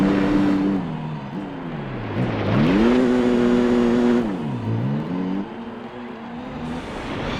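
A Mitsubishi Lancer Evolution races in Gran Turismo 4, its engine droning steadily near and loud, rising and falling in pitch through several gear shifts and revs, with no talking.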